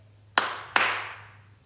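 Two sharp hand claps a short beat apart play an eighth-note rhythm lesson pattern, close and clean, each followed by a brief room decay over a faint steady hum, with no talking.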